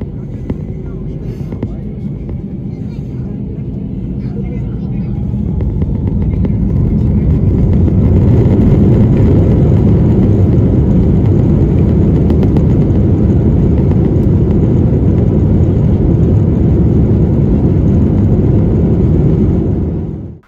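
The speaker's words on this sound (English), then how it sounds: "let's watch the takeoff" Lufthansa Airbus A321 jet taking off, heard from inside the cabin: a loud, steady engine roar that builds over the first seconds and then holds as a dense throbbing drone.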